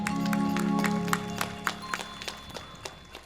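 Applause from the audience at a Ramkatha devotional gathering, a dense wash of clapping at first that thins into scattered individual claps, with sustained tonal music playing underneath.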